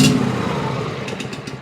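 A Cub Cadet XT2 lawn tractor's Powermore fuel-injected engine runs steadily up close, a continuous mid-pitched motor drone with a faint clatter and a few light ticks near the end.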